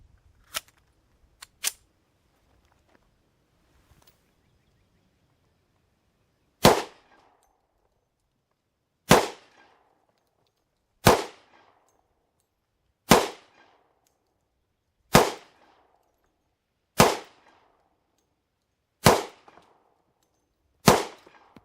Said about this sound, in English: We're gonna take some of my 200 grain loads and put 8 rounds down range, on target, test for accuracy, test for reliability.